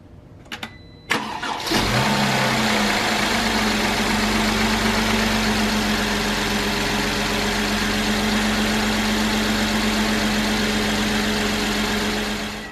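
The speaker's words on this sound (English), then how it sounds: "We're gonna start the motor, make sure everything is sounding good." A 2012 Mercedes E350 engine cranks briefly and catches after an oil change, then holds a loud, steady, even idle up close with no voices.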